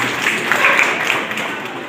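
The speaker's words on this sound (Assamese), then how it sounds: "হাত চাপৰি মাৰি আমি ইয়াক আদৰণি জনাওঁ" An audience at a college women's cell award program applauds, a dense, even wash of many hands clapping that holds steady for about two seconds; fairly loud and close.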